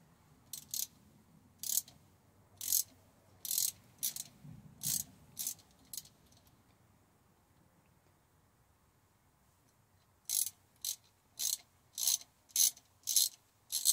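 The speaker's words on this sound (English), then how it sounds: "let's go ahead and start taking these torque head screws out to remove the outer cap" A ratchet wrench backs Torx head screws out of a brake hub cap on a Ford Ranger, giving bursts of quick, crisp, close clicking. A quiet pause falls midway before the clicking starts again.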